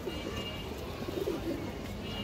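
Pigeons of an old racing line, bred from parents kept for eight to ten years, coo softly under a steady, noisy background hum, with a few faint, low murmurs around the middle.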